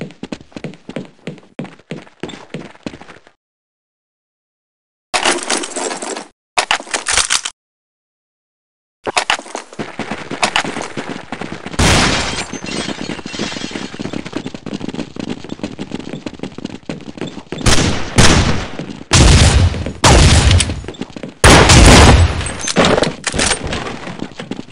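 Gunfire in Counter-Strike 1.6 on the de_chateau map, rapid bursts of sharp shots with silent gaps, growing louder and denser toward the end into heavy close volleys.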